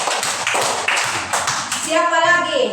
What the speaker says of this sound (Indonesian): Tepuk tangan untuk Krisel.